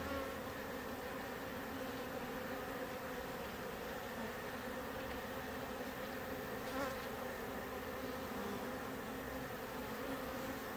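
Honeybees drone steadily around a hive in the woods in Italy at the end of the beekeeping season. The buzz is a close, continuous hum with no talk.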